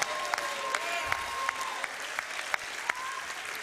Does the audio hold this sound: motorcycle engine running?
no